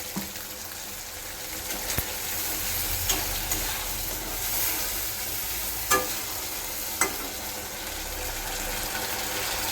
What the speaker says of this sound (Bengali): দিয়ে লাল লাল করে ভাজবো এর মধ্যে নুন হলুদ সব দিয়ে দেবো